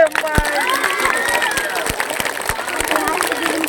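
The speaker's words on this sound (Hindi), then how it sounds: "ताली मारिए।" Audience at a street magic show clapping in a steady, dense burst of applause with crowd murmur, moderately loud throughout.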